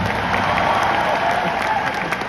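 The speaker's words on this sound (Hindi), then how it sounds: "उस पर्सन के लिए भी एक बार ताली बजा दो यार," Audience in a hall applauding together, a brief steady burst of clapping heard alone.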